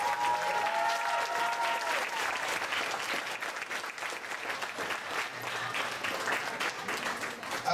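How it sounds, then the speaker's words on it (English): Sustained applause from a crowd at a poetry night, steady and dense clapping throughout with a faint tonal hum early on. "Could we have a warm round of applause for all of the folks?"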